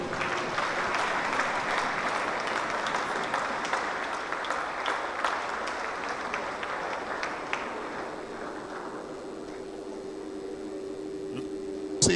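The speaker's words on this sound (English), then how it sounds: "Please, a round of applause," Applause from an audience at an unveiling of the 2022/2023 season jerseys for Bendel Insurance FC and Edo Queens FC, a steady dense wash of clapping that thins and fades over the last few seconds.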